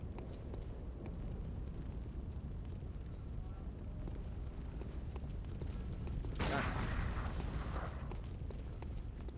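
A single loud, sharp gunshot from the Bloodborne video game cracks out partway through, standing above a steady, dense wash of in-game ambience and rumble.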